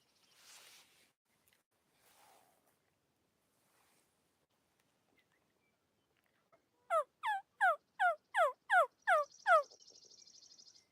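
A wild turkey tom gobbles in Idaho hunting country near a hen roost, a single rapid rattling burst of about eight pulses, clear and moderately close, followed by a faint trailing trill, after near silence with a few soft rustles.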